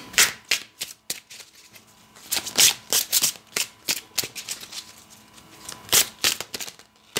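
A deck of oracle cards is shuffled by hand for a tarot reading, making a close series of quick, irregular riffling and slapping bursts with no talk.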